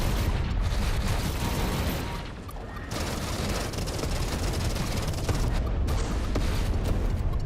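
An enemy bomb thrower's blasts in the space shooter Everspace 2 land amid a dense, loud wash of explosions and weapon fire, booming repeatedly with barely a pause across the stretch.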